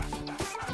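A cartoon dog gives short, yappy barks and eager whimpers at close range, a few quick bursts under light background sound with no talking.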